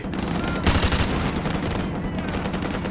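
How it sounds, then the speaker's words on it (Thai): Dense, continuous gunfire in Call of Duty: Modern Warfare, with overlapping automatic bursts and heavy reports forming a loud, unbroken barrage close by. "ยิงเลย"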